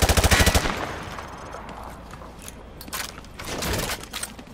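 Rapid bursts of automatic gunfire tear through light cover in Call of Duty Modern Warfare 2, loud, close and tightly spaced at first, then trailing into scattered, quieter shots.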